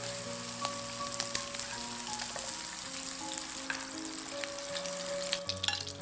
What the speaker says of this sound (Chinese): 再把之前腌好的肉丝加进去翻炒